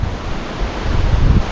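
Strong wind gusts roar steadily across an open hillside, a dense low rushing that swells louder toward the end, with no voices.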